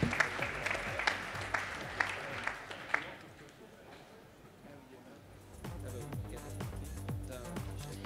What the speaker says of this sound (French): On vous applaudit. Félicitations.